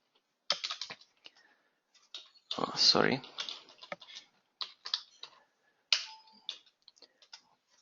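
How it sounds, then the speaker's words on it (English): Computer keyboard typing in short irregular bursts of clicks, moderately close, with a brief louder patch of handling or voice in the middle. "When I type the layout index here again"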